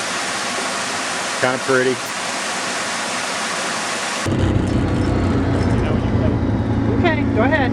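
Loud rushing rainwater pours steadily off a mountain beside Bergoo Road, like a fast stream or runoff, after a brief stretch of talk; a voice speaks over the roar.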